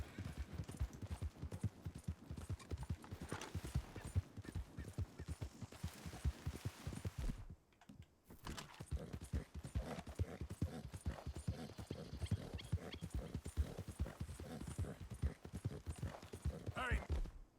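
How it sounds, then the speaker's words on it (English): Rapid hoof clip-clop of wild horses galloping, a steady drumming rhythm throughout, with a brief pause midway and voices occasionally over it. "What's up, wild horses?"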